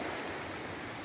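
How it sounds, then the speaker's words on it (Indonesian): Surf washes onto the east beach of Pulau Panjang in Air Pangis, West Sumatra, at midday: a steady, close wash of breaking water mixed with a little wind rumble. "Ini suasana pantai dengan nuansa yang eksotis."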